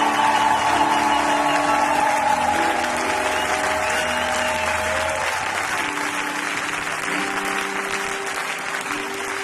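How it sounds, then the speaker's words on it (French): A church congregation applauds and cheers at a worship service, a loud sustained roar of clapping and voices with a held tone underneath that gradually softens toward the end. "Tu fais monter une bonne acclamation"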